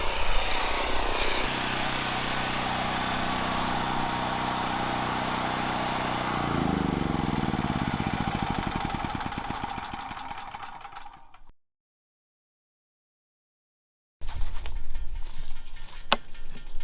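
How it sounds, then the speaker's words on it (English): A portable generator engine running steadily at a close, loud, even drone that shifts in tone partway, then cuts out to near silence before other sounds resume. "all I've got to do now is go out to the generator, and you may not be able to hear me"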